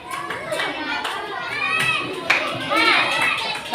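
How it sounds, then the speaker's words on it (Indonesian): Group of children in a classroom clapping their hands, with scattered sharp claps among lively young voices chattering and calling out nearby. "Kita tepuk tangan dulu, biar fresh."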